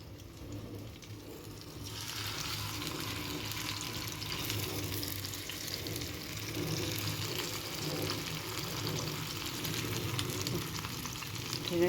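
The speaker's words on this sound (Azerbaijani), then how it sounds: "Belə bir halda qızardıram bunları." Fish frying in a pan at home: after a quiet start, a loud, dense sizzle bursts in and holds steady, rising slightly toward the end, with no talk over it.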